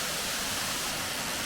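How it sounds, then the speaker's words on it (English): Undara Falls pours in a constant, broad rush of falling water, a steady, even roar with no breaks or voices over it. "So we're at Undara Falls now"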